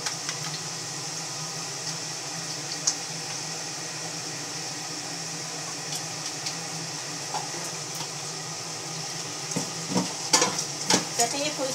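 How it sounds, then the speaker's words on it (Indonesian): An egg fries in a pan with a constant, even hiss and faint crackle at moderate distance, a low steady hum underneath, and a few clinks and pan knocks toward the end; nobody speaks. "Ini telurnya mau digoreng ya."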